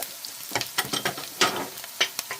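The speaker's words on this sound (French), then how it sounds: "Les poivrons, les aubergines, la totale, et on fait sauter tout ça" Peppers and eggplants sauté in organic olive oil for ratatouille, a soft sizzle broken by sharp, irregular bursts of stirring and tossing in the pan. The sound is close and lasts a couple of seconds.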